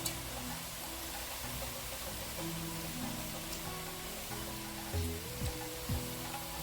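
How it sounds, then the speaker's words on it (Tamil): Chopped banana flower sautés in a small amount of oil for a chutney, producing a steady close-up sizzle with occasional soft scraping stir sounds. "கொஞ்சமாக எண்ணெய் ஊற்றி வதக்கிக்கலாம்."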